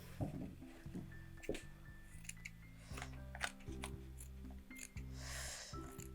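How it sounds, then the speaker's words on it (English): Scissors snip through fabric for a Scandinavian Christmas gnome in a quiet room, a series of soft close crunching cuts coming at an uneven pace. "I'm going to cut it out."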